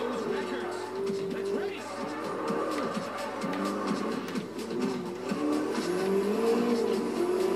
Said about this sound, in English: So it's a Peugeot 205 turbo.